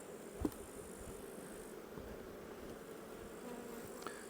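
A faint, constant buzzing of honeybees around hive frames hums throughout, soft and steady, with a small knock near the start.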